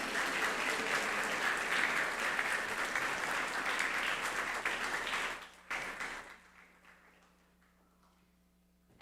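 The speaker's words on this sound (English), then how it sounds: "Can we give a big round of applause to Mr." A school assembly audience gives a big round of applause for the media team. The dense clapping runs loud for about five seconds, then drops off abruptly into quiet room hum.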